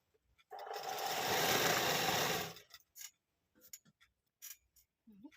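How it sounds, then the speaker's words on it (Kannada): A sewing machine stitches a blouse frill in one close, fast whirring burst of about two seconds, then goes quiet apart from a few light clicks and handling noises. "ಹಾಗಾಗಿ ಎಲ್ಲ ಸ್ಟಿಚ್ ಮಾಡ್ಕೊಳ್ಳೋಣ"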